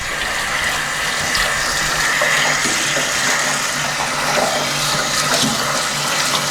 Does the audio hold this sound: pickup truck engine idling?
no